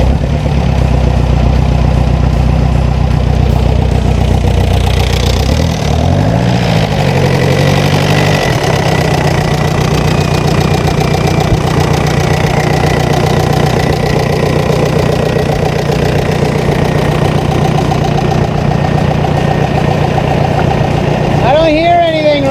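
A silver VW MK4 Jetta TDI diesel parts car idles with a steady, loud, gravelly clatter from start to finish.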